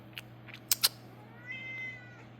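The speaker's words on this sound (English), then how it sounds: "Are you a cat?" A cat meows once in a drawn-out, rising and falling call after a few short sharp clicks, close and fairly clear over a low steady hum.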